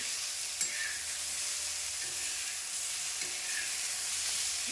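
Raw green tomatoes sizzle in a pan while being stirred, a steady frying hiss with occasional soft scraping strokes from the spoon, close and continuous with no talking.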